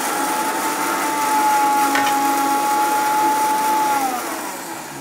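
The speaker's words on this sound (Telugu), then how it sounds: "ఆ మిక్సీ సౌండ్ వస్తుంది" A kitchen mixer grinder runs with a loud, steady whirring whine that holds evenly for several seconds before winding down near the end.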